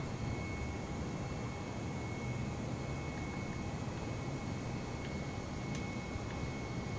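A fixed-wing airplane in Flight Simulator rolls for takeoff, its engine a steady, even broadband roar with a faint high whine, no other sounds over it.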